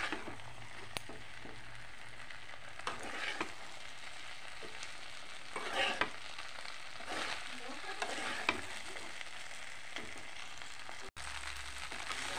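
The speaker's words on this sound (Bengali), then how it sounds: "হালকা হাতে নেড়ে নেব।" Chicken chili rice being stirred in a pan, with soft intermittent scrapes and light sizzling running steadily throughout, and no talking.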